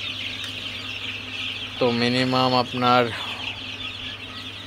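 Sonali chickens and chicks on a poultry farm, a few loud clucks around the middle of the stretch over a constant low hum and faint chirping, with someone speaking briefly.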